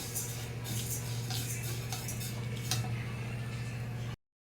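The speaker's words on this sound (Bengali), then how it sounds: "তো আমি হালকা আঁচে ডালটাকে ভেজে নেব।" Lentils (dal) dry-roasting in a pan over low heat: faint scraping and light ticking as the grains are stirred, over a constant low hum, before the sound cuts off to silence.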